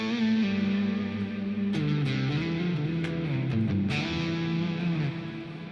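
An electric guitar plays through an edge-tone effect preset named Little Giant, heavily distorted and sustained with a thick, swelling tone and a few bends, loud and alone with no talk over it.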